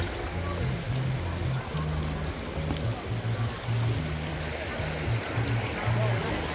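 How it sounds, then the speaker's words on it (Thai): A natural creek flows steadily during a Songkran family gathering, a constant broad rush of water heard up close, with a low rhythmic thrumming underneath. "เป็นห้วยธรรมชาติครับ"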